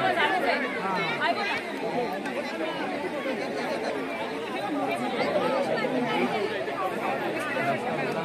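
A dense crowd chattering at a Ganpati immersion in the Konkan region, overlapping voices forming a loud, close, continuous babble with no single speaker standing out.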